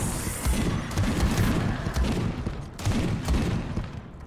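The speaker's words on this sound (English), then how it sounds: "It's all the same gunshots." Bursts of gunfire from Space Hulk: Deathwing come in repeated volleys of thudding shots over about four seconds, with rumbling booms between bursts, moderately loud.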